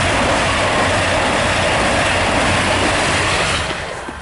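A train riding on rails, a loud, steady rumbling roar of wheels and carriages with a faint rhythmic clatter, easing off slightly at the end, with no talking.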